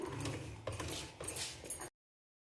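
A sewing machine stitches fitting seams on a frock with a close, busy mechanical whirr and clatter for about two seconds, then stops abruptly.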